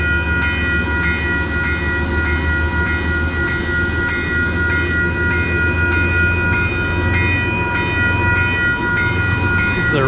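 A Hudson Line train pulls out of tiny Manitou station in New York, giving a loud, steady rumble with a sustained humming drone that holds close and even throughout.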